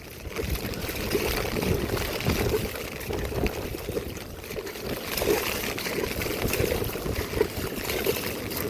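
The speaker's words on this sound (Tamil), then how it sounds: "கடல் சீற்றம் சத்தம் ஒரு மாதிரி இருக்குது." Rough sea roars near the flooded fishing coast at Kudathanai, a loud, unbroken wash of surging water and surf noise that holds steady for several seconds.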